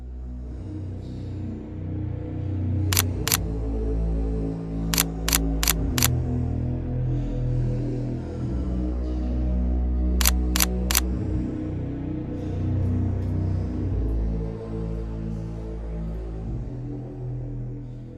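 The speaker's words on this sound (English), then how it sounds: "I was pressing shutter button literally with my toe." A camera shutter fires in quick bursts, first a pair of clicks, then a run of three or four, then another three, sharp and close over a low rumbling background, with no one speaking.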